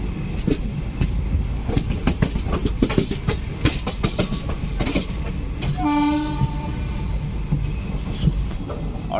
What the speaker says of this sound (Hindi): अपनी डिपार्ट हो गई सुल्तानपुर से हमारी ट्रेन सरजू एक्सप्रेस